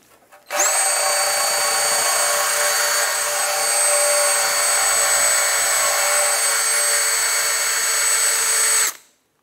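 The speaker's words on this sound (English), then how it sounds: "I'm going to use a wire wheel and a drill and just gently grind this off with the wire wheel until it's flat" A wire wheel on a drill grinds rust off a metal surface while replacing the transmission temperature sensor on a 2008-2010 Ford F-450, a loud, steady high-pitched whine lasting about eight seconds, starting abruptly and spinning down at the end.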